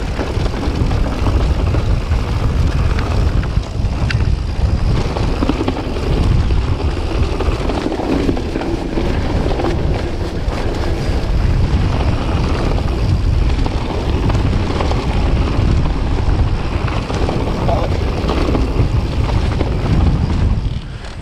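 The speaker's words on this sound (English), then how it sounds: "Yeah, it's cold up here. Wind is incredible." Strong, cold wind roaring across an exposed Peak District hilltop on a mountain bike ride, a constant heavy rumble and buffeting against the microphone with no letup.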